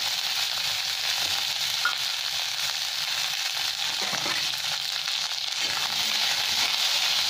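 Sliced onions, black mustard seeds and leaves fry in hot oil in a pan, a loud, steady, close sizzle and crackle with faint stirring scrapes and no voices.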